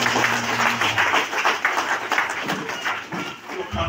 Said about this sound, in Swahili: Piga Yesu makofi mengi.